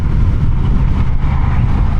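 A Honda Rebel 1100 DCT motorcycle engine hums and rumbles steadily while riding, loud and close, with no clear break between gears and no talking.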